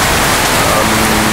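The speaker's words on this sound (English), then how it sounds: "Now a lot cooler. It's rain." Heavy rain pours during a thunderstorm in Fort Kochi, a loud, dense, steady hiss of water filling a brief stretch without pause.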